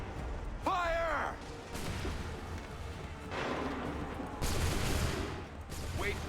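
Musket volleys in the Assassin's Creed III video game: several sharp crackling bursts of massed gunfire, medium distance, mixed with shouted commands and battlefield noise.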